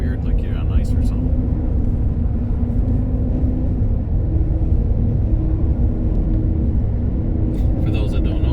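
A car's tires roll across the metal grate deck of a bridge, giving a loud, steady droning rumble with a tonal hum that holds throughout, and faint voices come through in places.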